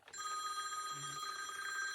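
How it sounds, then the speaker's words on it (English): A telephone ringing indoors, a steady electronic ring tone held for about two seconds, moderately loud with no talk over it. "that's my phone ringing"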